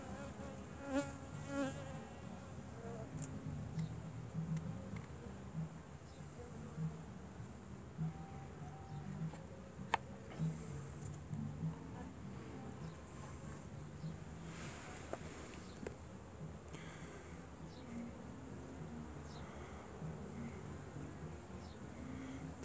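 Dense, steady buzzing of many honey bees inside a mini mating nucleus hive, close up and continuous, with small bumps and rustles and no talk.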